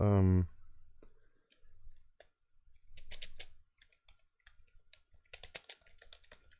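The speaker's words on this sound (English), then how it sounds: "I'm typing it out right now." Keyboard typing at a computer during a casual cosmology chat, heard as faint scattered clicks in short bursts with a brief voice at the start and quiet room tone between.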